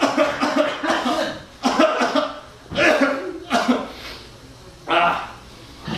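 Several harsh, bursty coughs in quick succession, fairly close and loud, with short pauses between fits.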